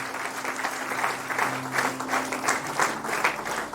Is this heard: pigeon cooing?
no